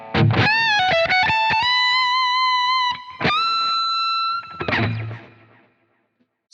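Electric guitar running through a Quad Cortex preset with a clean, classic rock tone and effects: sustained ringing notes and bends with quick picked attacks, a short pause near the middle, then a final strum that decays into silence.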